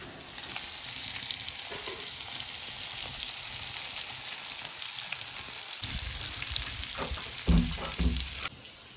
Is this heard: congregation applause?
no